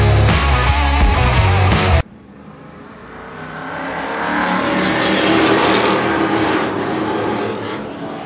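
Race cars roar back to speed on a restart during the Super Street 100, engines building from a sudden drop into a sustained, loud, layered snarl of many cars accelerating together.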